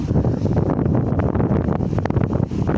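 Strong gusting wind roaring across an open sunflower field, buffeting the microphone with a loud, continuous rumbling rush that swells and dips unevenly.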